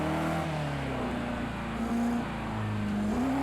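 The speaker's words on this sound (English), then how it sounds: "you end up locking up the brakes" Race car in Project CARS 2 with its brakes locked, the engine tone dropping and shifting while a tire squeal whines steadily across the brief moment, fairly faint, with no talking.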